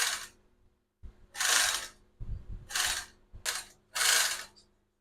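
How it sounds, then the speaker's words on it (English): A three-thread overlocker sewing machine runs in several short bursts of whirring stitching separated by brief pauses, close and fairly loud with no one talking. "So you can see that our overlocker works perfectly."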